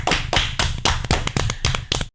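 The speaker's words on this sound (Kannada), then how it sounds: "ಈಗ ನಮ್ಮೆಲ್ಲರ ಪರವಾಗಿ ಅವರಿಗೆ ಒಂದು ಚಪ್ಪಾಳೆಯೊಂದಿಗೆ ಧನ್ಯವಾದ ಹೇಳೋಣಲ್ಲ?" Applause of thanks for a teacher on a children's school radio programme about the Dasara festival, a short burst of several rhythmic claps from a small group, close and loud, ending abruptly.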